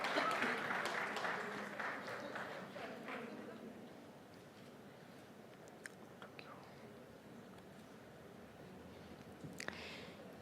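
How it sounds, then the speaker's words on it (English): An audience at the NDTV Real Estate Conclave 2025 claps loudly to welcome a Union Minister, the applause strongest at first and then thinning to scattered claps and quiet murmuring. "may we have a huge round of applause"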